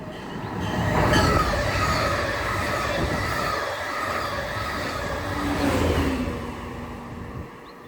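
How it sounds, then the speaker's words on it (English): An express MARC commuter train passes southbound on the Northeast Corridor at Odenton, Maryland, a loud, sustained rail roar and wheel rumble that swells early and again near the end before easing off. "An express MARC train passed through southbound to New Carrollton."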